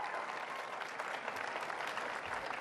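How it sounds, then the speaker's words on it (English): Audience members at a political debate on privacy and security clap in a faint, even patter of many hands that holds steady throughout without any voices on top. "Wait for the applause."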